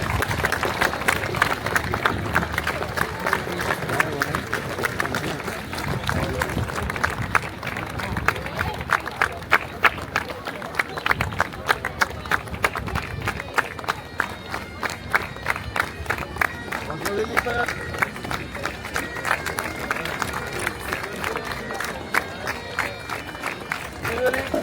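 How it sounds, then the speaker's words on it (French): Outdoor crowd applauding a Breton folk group from Saint-Évarzec as it marches in a grand festival parade in Cornouaille, steady clapping and crowd noise throughout with a voice talking over it. "On applaudit bien fort nos amis de Saint-Évarzec."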